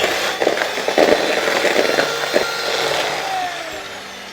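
Electric mixer beating brown sugar into cake batter for a Kerala Christmas plum cake, a continuous close whirring buzz with rattling, scraping beater clatter and no voices.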